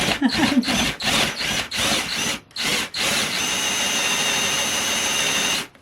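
A power drill bores into wood in several short whirring bursts, then one long steady grinding run, close and loud, while making Halloween crafts.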